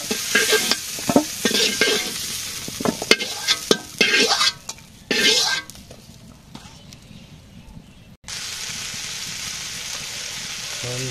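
Food frying in a pan with repeated scraping stirs, bursts of sizzle and clatter of a utensil, followed by a quieter steady hiss near the end.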